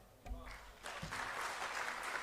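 Audience applause at a political rally in New Delhi, a dense clatter of clapping that swells after a brief onset and holds steady and fairly loud throughout.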